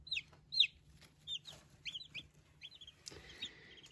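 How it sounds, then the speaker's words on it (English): Newly hatched baby chicks on a homestead cheep in a string of high, thin peeps, close and fairly quiet over a low steady hum. "We decided to call this one Badger, which I think is like the cutest name ever for a baby chick"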